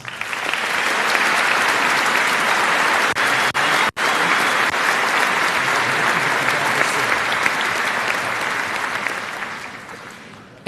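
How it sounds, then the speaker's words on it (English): A large audience at a 2016 high school commencement applauds steadily for a medal recipient, a loud, dense wash of clapping that holds for about ten seconds with a brief dip midway. "join me in honoring him with a round of applause"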